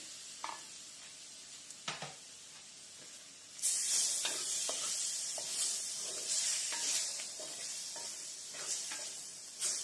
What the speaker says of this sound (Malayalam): ഇനി ഇതിൽ ഞാൻ കട്ട് ചെയ്ത് ടൊമാറ്റോ ചേർക്കാൻ പോവാണ്